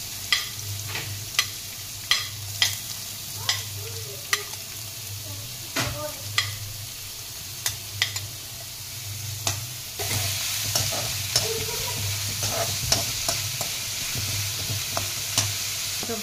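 Sliced onions, two of them, sizzle steadily in a pan for a sorakaya curry while a spoon scrapes and stirs in repeated sharp clicks roughly every second, close and clear with no talking.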